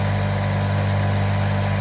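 A 6.5 kW copper-wound electric motor driving a crusher, running on about 155 volts, giving a loud, steady low hum with constant vibration and no change in pitch.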